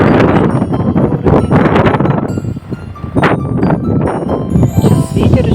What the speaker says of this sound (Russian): сейчас ветер еще поднялся.